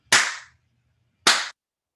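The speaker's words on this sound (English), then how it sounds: "Let's clap and clear that one." Two sharp hand claps about a second apart, each a crisp close burst with a short decay, standing alone in a quiet room.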